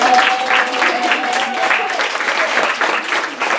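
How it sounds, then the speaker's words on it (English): Audience applause after a campus wellness panel, dense steady clapping that carries on throughout, with a voice briefly heard over it early on. "Let's give another round of applause."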